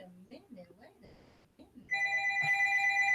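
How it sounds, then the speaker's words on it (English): A telephone rings loudly and steadily after a stretch of talk, its tone continuing alone to the end of the clip. "How do I answer the phone?"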